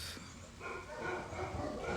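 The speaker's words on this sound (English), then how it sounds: "There go my dogs." Several dogs bark and yip outdoors at some distance, a continuous muffled chorus that swells slightly partway through, with no talk over it.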